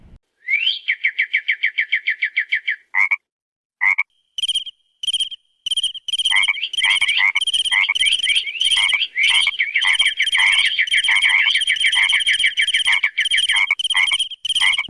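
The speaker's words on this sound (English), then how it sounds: "how one frog talks to another frog at the same frequency" Frogs croaking in the Borneo rainforest: rapid trains of pulsed calls, then a dense, overlapping chorus of repeated chirping calls that builds and continues loud and close with no talking.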